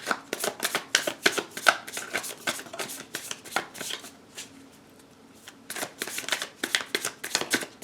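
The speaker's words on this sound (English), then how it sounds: "Let me cut the cards" Tarot cards from a Wild Unknown Tarot deck are cut and shuffled in rapid riffling bursts, close and soft, with a short quiet pause midway and no voices.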